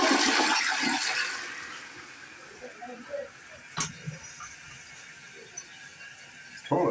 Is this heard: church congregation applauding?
no